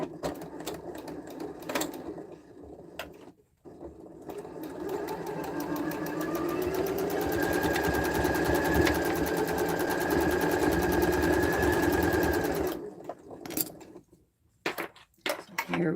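A sewing machine stitching quilt pieces, with a few handling clicks and knocks, then a steady mechanical whirr running for several seconds before stopping, followed by more soft clicks and taps nearby.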